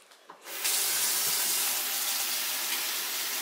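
A kitchen tap is turned on and runs steadily for handwashing before preparing Korean chicken wings. The water comes in after a short quiet lead-in and keeps a loud, constant hiss until the end.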